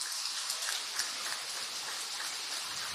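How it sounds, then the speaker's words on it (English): Steady rain falling at an outdoor karting circuit, a dense continuous hiss with faint patters, alone with no voices. "the rain continues to fall here"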